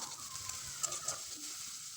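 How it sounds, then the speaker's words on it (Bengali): Chopped onion fries in mustard oil in a wok, a quiet steady hiss with a couple of brief crackles as it is stirred, close by and without talk. "একটা বড় সাইজের পেঁয়াজ ছোট ছোট করে কেটে রেখেছিলাম, ওটা দিয়ে হালকা করে ভেজে নেব।"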